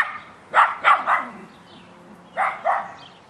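A dog barks at something a block away in two bursts, three sharp barks then a pause and two more, fairly close and loud with no talking.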